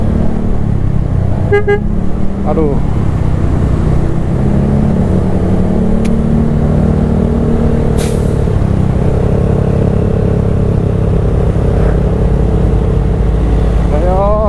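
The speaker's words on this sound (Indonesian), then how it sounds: "Nah ini truk nyalip nih." A truck overtakes on a hilly road in West Java, its engine a loud, steady low drone under constant wind roar from a moving motorbike, with short horn toots and a brief exclamation from a rider.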